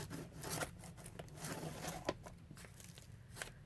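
Rough scraping and tearing as a blade works through a thick padded Amazon mailer, in uneven strokes with short pauses between.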